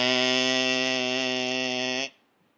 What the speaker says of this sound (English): A jam compressor is gonna sound something like this.